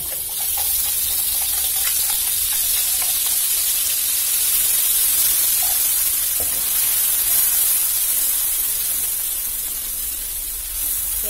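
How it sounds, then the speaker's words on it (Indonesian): Blended spice paste sizzles as it is sautéed in a little oil for a beef soto, a loud, steady hiss and crackle that carries on evenly throughout. "aku tumis bumbunya dulu ya"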